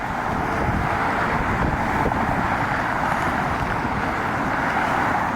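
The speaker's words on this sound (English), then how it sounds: "Over this freeway, we were in the middle of a windstorm that was physically moving me around" Windstorm gusting over a freeway with passing traffic, a dense, steady roar of wind and road noise with no pauses, loud and unbroken throughout.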